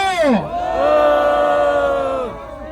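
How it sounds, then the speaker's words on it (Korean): A crowd of elderly demonstrators outside Tapgol Park in Seoul cheers in welcome, a loud sustained collective shout that swells quickly, holds, then tails off, with a rising yell at the start. "큰 함성으로 환영해 주십시오."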